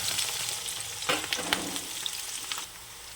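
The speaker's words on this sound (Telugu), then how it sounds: "ఈ విధంగా బ్రౌన్ కలర్ వచ్చే వరకు వేయించుకోవాలి" Chopped green chillies and onions fry in a pan with cumin and mustard seeds, giving a steady close sizzle with a few sharper spatula scrapes midway, no talking.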